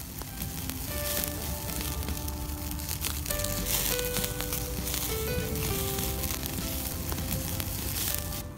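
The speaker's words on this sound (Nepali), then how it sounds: "यो मासुलाई पोल्नुपर्ने हुन्छ, ताकि चारैतिर सबैतिर राम्रोसँग समान तरिकाले मासु पाकोस्" Duck meat roasting over an open fire for Nepali choila, a loud, steady sizzle with crackling fat and flame and occasional faint tonal squeaks, with no talking.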